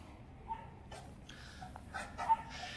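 Australian Shepherd dogs eating together give off faint, scattered yips, whimpers and small mouth noises in a quiet room, with brief louder bursts near the end.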